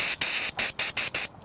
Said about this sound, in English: Spray down with brake cleaner, anything that you're going to undo.